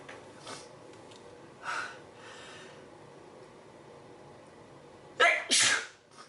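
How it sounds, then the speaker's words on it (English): Two sharp sneezes close together near the end, preceded by a few softer breathy snorts over quiet room noise. "when I have to sneeze during a reading"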